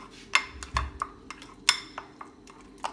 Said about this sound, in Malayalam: നന്നായിട്ട് മിക്സ് ചെയ്യണേ